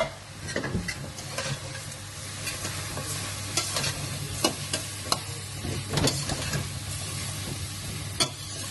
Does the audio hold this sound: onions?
yes